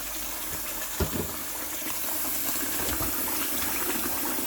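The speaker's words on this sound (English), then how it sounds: "So you wash your meat thoroughly" Cold water runs steadily from a tap as lamb's neck meat is washed for pumpkin soup, a continuous splashing rush with small clunks of handling near the start.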